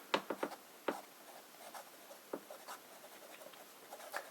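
A fine-nib fountain pen with Pelikan Turquoise ink scratches across paper in short, irregular strokes and taps, very close and quiet, with brief pauses between words.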